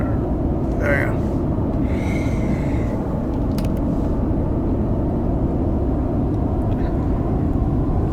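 An airplane taking off in a VR flight simulator game, a steady loud engine rumble and roar held constant for the whole stretch, with brief higher tones over it and someone talking.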